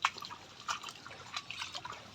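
Water trickles in a village irrigation channel, heard close up as soft, uneven drips and light splashes repeating in a loose rhythm, with no talk.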